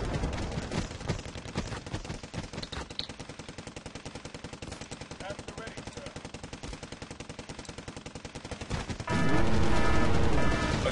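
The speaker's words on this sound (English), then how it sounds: "the Hemet is destroyed. It gave off a blast radius" In a video game, a HEMTT logistic vehicle is destroyed: a long, fast, even rattle of weapon fire keeps going, then cuts to a sudden louder, sustained roaring blast near the end.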